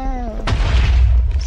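In Minecraft, a single deep cannon boom bursts in after a moment of voiced sound, followed by a loud rumbling roar that sustains to the end.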